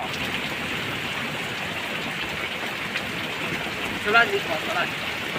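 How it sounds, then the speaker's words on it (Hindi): Steady heavy rain roars as a broad hiss, with a brief burst of splashing or a faint voice near the end. "इतनी बड़ी बारिश हुई है आज हमारे इलाके में"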